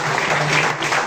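A church congregation claps together through the whole moment, a steady dense wash of applause with no pause and no voices rising above it.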